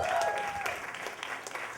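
A nightclub crowd applauds the DJ at a San Francisco club event: steady, dense clapping that fills the whole stretch, with faint tonal background sound underneath.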